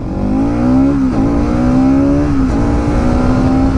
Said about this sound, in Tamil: 60 to 0 ரியர் பிரேக்ஸில் செக் பண்ணுவோம்.